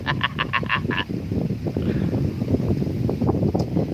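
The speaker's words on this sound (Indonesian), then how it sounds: "Lagi ngangon bebek Kang" Ducks being herded give a quick run of loud, close quacks at the start, followed by a dense chorus of overlapping quacks and rustling, with wind buffeting the microphone throughout.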